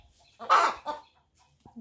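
A hen clucks, wanting to lay an egg: a couple of close, short, throaty clucks separated by quiet pauses, with a faint softer call near the end.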